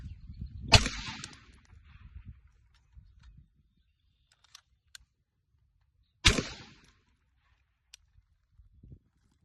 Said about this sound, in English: Get that buttstock back all the way out. And then I fire.